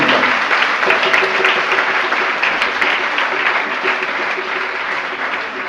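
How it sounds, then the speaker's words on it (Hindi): Loud, sustained applause from a religious discourse audience honoring a whole family, dense steady clapping filling the hall throughout, tapering slightly near the end. "एक बार संपूर्ण परिवार के लिए जोरदार तालियां बजाओ"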